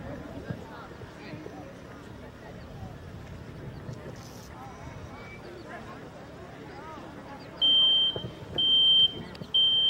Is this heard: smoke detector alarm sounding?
yes